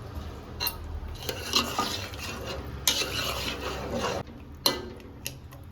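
Tamarind juice simmers in a pot with a bubbling, sizzling hiss. A utensil stirs and scrapes against the metal pot, with a few sharp knocks standing out near the end.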